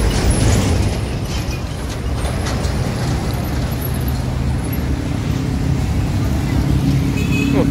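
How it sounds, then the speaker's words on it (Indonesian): Steady road traffic on a busy street stopped at a red light, with buses, cars and a dump truck idling and rumbling close by, a continuous low engine drone filling the whole stretch. "Lalu lintas nggak terlalu padat, biasa lampu merah."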